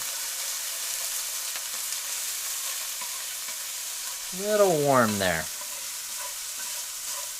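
Garlic sizzles steadily in a hot pan with a constant frying hiss, while a person speaks briefly over it.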